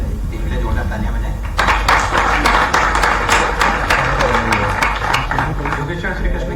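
Audience applause for a national yoga athlete, a Khelo India silver medallist for Madhya Pradesh, at a science conference event in Bhopal; a burst of clapping rises after a second and a half and carries on steadily under a speaking voice.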